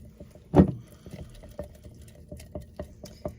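A sourdough starter on day two being stirred in a jar: soft wet squelches and light clicks in an irregular rhythm, with one louder slap near the start, close and fairly quiet.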